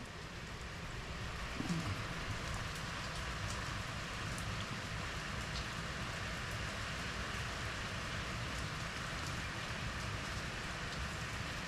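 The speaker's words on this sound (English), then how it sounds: "Then a little wind comes in, and then a little rain." Steady rain patters down in a continuous broadband hiss, even and unbroken from start to finish, with no voices.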